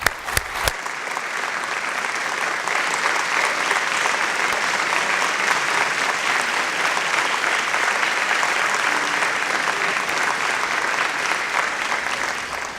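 Sustained audience applause at a university State of the University address welcoming the president, a full room clapping steadily and loudly for over ten seconds after a few sharp opening claps.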